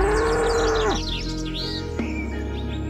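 Cartoon bulls moo in an animated story, two drawn-out tonal calls, one long and one shorter, heard up close with chirpy bird-like squeaks layered over them.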